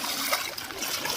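Flood water splashes and trickles steadily on a village street after heavy rain in Gujarat, a close, continuous watery patter with no clear speech.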